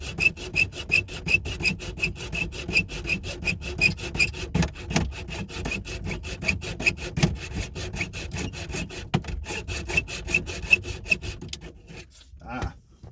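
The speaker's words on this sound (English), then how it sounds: "But I'm just using a regular handsaw." Regular handsaw cutting through wood, a steady back-and-forth rasp of rapid strokes, close and loud, running continuously before stopping near the end.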